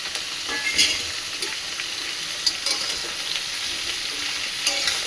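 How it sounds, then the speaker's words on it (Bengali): Eggplant, radish and stems, seasoned with salt and turmeric, fry in a loud continuous sizzle close by, punctuated by a few scraping stirs of a utensil against the pan, and no one speaking. "এটা এবার ভাজতে দিয়ে দেবো।"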